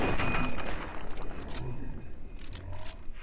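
Gunfire in the Fallout 3 video game, several sharp close shots in quick succession with short pauses, over a steady game background.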